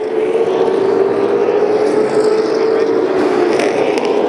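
Super late model race cars roar around a dirt oval during a feature race, a loud, sustained engine drone holding a steady pitch with a close, continuous throbbing rumble and no pauses.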